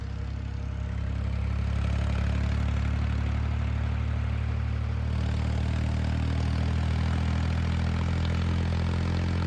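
An International tractor's diesel engine runs steadily up close, a deep continuous drone with a strong low rumble that holds constant throughout, with no voices over it.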